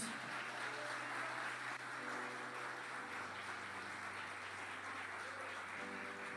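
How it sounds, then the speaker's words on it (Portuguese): Congregation clapping in a church service, a steady continuous round of applause heard at a distance and fairly quiet, with a low sustained hum beneath it throughout. "Dá uma salva de palmas a Jesus."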